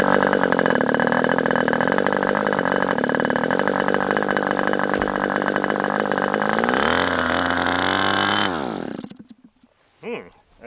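An OS 61FSR-H model engine fitted with a different carburetor, running loud and close with a steady high buzzing whine, then rising in pitch before cutting out abruptly, leaving a few faint knocks.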